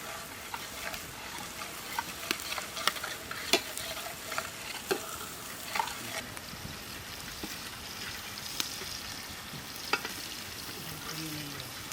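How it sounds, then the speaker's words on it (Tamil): Goat intestine gravy base with three green chilies sautéing in a pan over an outdoor cooking fire, stirred constantly: scattered clicks and scrapes of the spoon over a continuous faint sizzle and hiss, close, with no talking. "வதக்கணும்."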